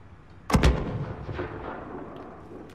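A single heavy gunshot booms close up in the Call of Duty Modern Warfare campaign, with a long rumbling tail fading out afterward.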